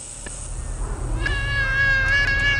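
A sad cat in the video game Thirty Flights of Loving lets out a drawn-out, plaintive meow that swells and holds near the end, close and clear over a low background hum.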